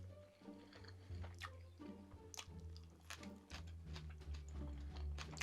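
Raw cabbage crunches between the teeth in repeated quiet, crisp bites and chewing sounds, close to the mouth, irregular over several seconds with no talk.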